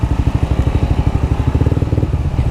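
A Suzuki GSX-S150 motorcycle running its exhaust without the dB killer gives a loud, close, throbbing burble, a fast even pulse of low thumps with a slight crackle.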